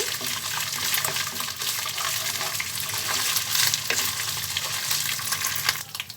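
Onions and ginger paste fry in a pan with a loud, dense, continuous sizzle, broken by a few scraping stirs.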